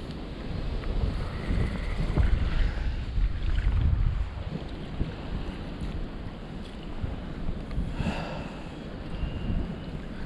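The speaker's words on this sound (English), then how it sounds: "that wind's getting back up" Wind gusting steadily over Esthwaite Water during a feeder fishing session, a broad rushing roar with microphone buffeting and faint lapping water, continuous and loud with no talk.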